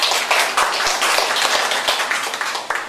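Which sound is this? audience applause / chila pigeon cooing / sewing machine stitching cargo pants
audience applause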